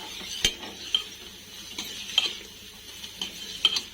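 A salted mixture is stirred in a frying pan, giving sparse metallic clinks and scrapes of a spoon against the pan at an irregular pace over a faint, steady sizzle, with no talking.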